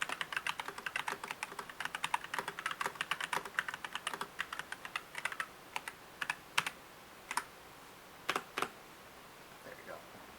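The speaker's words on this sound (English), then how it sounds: "here's a typing sample as far as how it sounds. Again, remember brown switches." Typing on an AULA F2088 mechanical gaming keyboard with brown switches, rapid dense clacking keystrokes at first that thin out to sparse isolated clicks near the end, close and clear.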